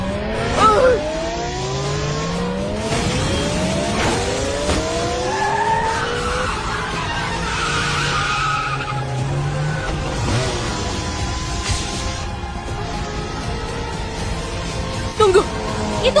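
Race cars on a closed street circuit skid and squeal their tires in long sweeping wails, with loud engines revving and passing close, and brief voices cutting in.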